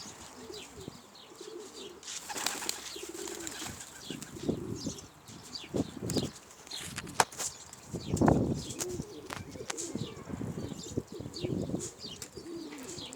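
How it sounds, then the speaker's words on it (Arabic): Domestic pigeons of zaq and kash breeds coo repeatedly at close range, with bursts of wing flapping and occasional chirps from young birds in a loft, and no voices. "مرحبا يا شباب، هدول حمام وزق وكش."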